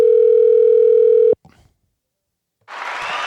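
A steady electronic ringback tone holds for over a second, then cuts off with a click, followed by silence and a burst of broadband line noise.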